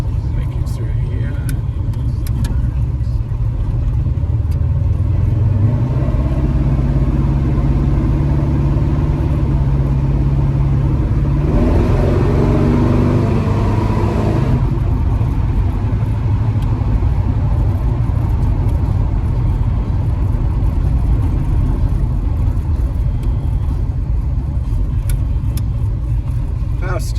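A 1972 Chevrolet El Camino with a 454 big block V8 runs steadily on a street, its low engine rumble constant and close, rising briefly in a louder surge midway.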